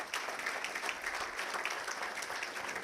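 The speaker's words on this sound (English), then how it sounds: "please join me in applauding the next generation of electric power and distribution professionals." A crowd claps steadily, a dense even wash of applause heard from within the audience, with no voices standing out.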